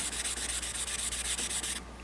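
Hand sanding of epoxy on a custom carbon fiber grip gives a close, steady rhythmic scratching of quick back-and-forth strokes, alone, then softens near the end.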